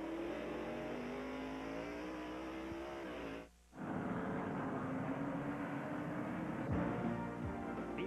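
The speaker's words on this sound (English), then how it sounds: "Mark Martin having a good run in the Valvoline Ford to this point" Stock cars racing at Sears Point International Raceway in California produce a loud continuous engine roar with rising revs, cut by a short dropout, then resuming at full volume.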